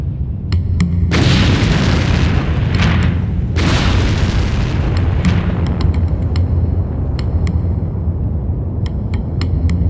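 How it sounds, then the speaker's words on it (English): Volcanic gas bursts out of lava in a loud, continuous deep roar, broken by heavy explosive blasts that come close together near the start. "As that comes towards the surface, the pressure reduces and this explodes out of the lava into the atmosphere."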